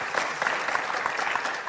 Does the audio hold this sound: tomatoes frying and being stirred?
no